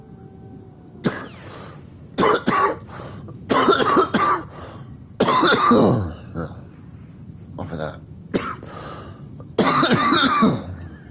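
Repeated coughing and throat clearing in bursts over about ten seconds, close and fairly loud, with a few words spoken between the fits.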